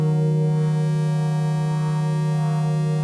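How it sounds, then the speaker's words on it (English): A sustained, evolving synthesizer pad from the FabFilter Twin 3 soft synth, rich in steady harmonics over a strong low fundamental, holding evenly loud for about three seconds with no voice. "or to create complex and interesting pad sounds like this one"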